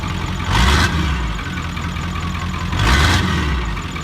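A straight-piped Ford OBS dually pickup with a turbo and factory downpipe idles loudly up close, its deep rumble swelling in two short revs before settling back to a steady idle.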